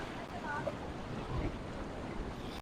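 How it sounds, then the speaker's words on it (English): Ocean waves wash onto a beach in a steady broadband roar, with wind buffeting the microphone throughout and no distinct breaks. "Listen to the waves."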